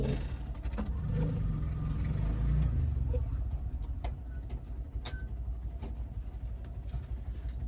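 A car engine rumbles steadily close by on a road, approaching from behind, with a low continuous drone and a few faint higher noises over it.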